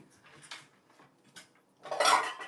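Newly bought plates and cutlery being handled, with a few light clinks and scrapes, then a louder clatter of dishes knocking together near the end, heard close with no talking.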